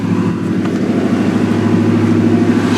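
A 1981 Ford Fairmont wagon with a 5.0 V8 idles steadily just after a cold start, a loud, even low engine rumble running throughout with no talk.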